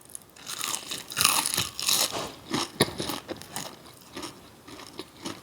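Crunchy onion rings are bitten and chewed close to the microphone, with a run of crisp, uneven crunches and softer chewing that keep going throughout, and no talk.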